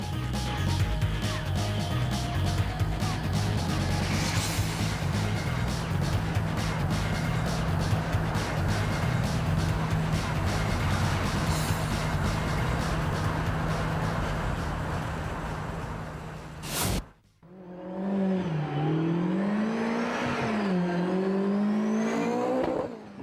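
A 4-cylinder 2-litre drag car on semi-slick tyres roars hard and steadily at full throttle for a long stretch, then cuts out abruptly before a rising, whining rev returns.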